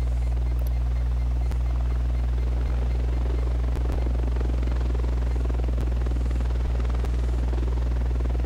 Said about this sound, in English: we don't want the helicopter